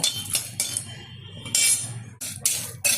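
Metal spoon scraping and clinking in a kadai while two small bay leaves and two dried red chillies are stirred, a few sharp bright scrapes with quieter gaps between, close and alone.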